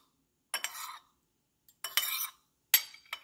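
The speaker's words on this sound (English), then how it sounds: "you could take a knife and kind of cut it into" A knife cuts set grass jelly into smaller pieces in three short bursts of scraping and tapping against a container, close and fairly quiet with silence between strokes.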